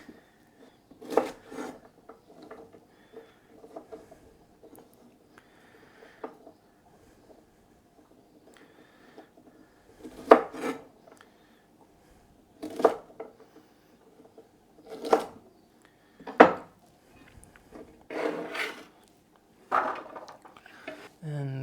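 Vegetables being chopped on a board for curry paste and fried rice, a series of sharp knife thuds in short bursts separated by quiet pauses, close and clear with no talking.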